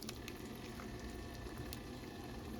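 Sausage frying in a homemade gumbo pot, a soft steady sizzle and crackle with faint stirring, close and quiet.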